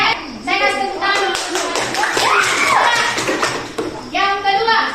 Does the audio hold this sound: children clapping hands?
yes